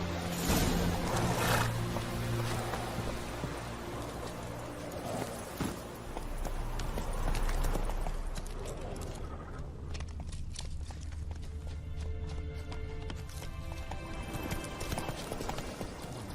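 Roach, a horse in The Witcher 3, gallops with steady rhythmic clip-clop hoofbeats over game ambience. The pace eases toward the end.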